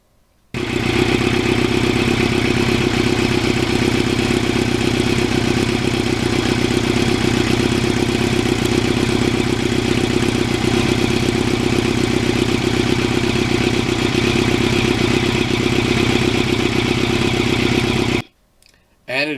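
A 1989 Kawasaki Ninja GPX750R motorcycle engine runs steadily at close range while riding, a loud continuous drone with clattering texture that cuts off briefly near the end.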